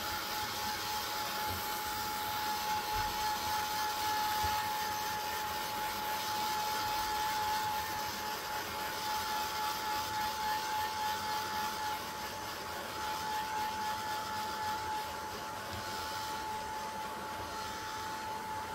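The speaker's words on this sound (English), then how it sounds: "use my heat tool" A craft heat tool blows steadily to dry paper for a journal page, a constant whirring, whooshing hum with a faint whine that runs unbroken for nearly twenty seconds, close and even, with no voices.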